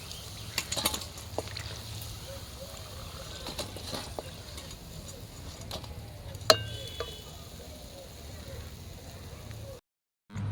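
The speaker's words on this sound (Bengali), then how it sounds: "বাকি পকোড়াগুলো আমি একইভাবে ভেজে নেব।" Cauliflower pakoras fry in hot oil with a faint, steady sizzle, broken by a few clicks and taps of a utensil against the pan, close and quiet.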